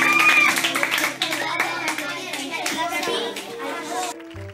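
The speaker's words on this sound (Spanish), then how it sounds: "Un aplauso." A crowd of parents and pupils at a school poetry festival bursts into lively applause, with children's voices mixed in, then the clapping cuts off abruptly.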